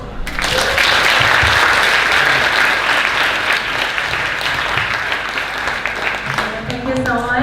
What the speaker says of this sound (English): Let's give a round of applause for our wonderful panel.